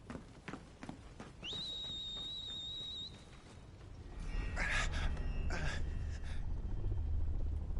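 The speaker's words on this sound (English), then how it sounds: "You probably whistled too loud." A loud, sustained two-tone whistle to call a steed in Final Fantasy XVI, holding steady for about a second and a half, then answered by game rumble and clattering hoofbeat-like noise.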